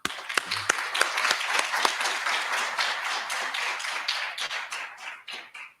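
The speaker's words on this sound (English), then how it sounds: "Let's round of applause" Audience applause at a conference panel event, starting with a few sharp, distinct claps, then building into steady mid-level clapping that thins and tapers off toward the end.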